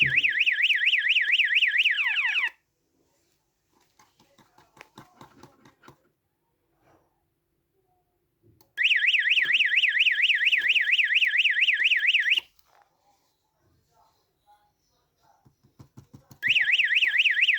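A SPY 5000 car alarm set off by its microwave sensor blares in three loud, warbling electronic siren bursts, with quiet gaps of faint clicking and handling noises between them.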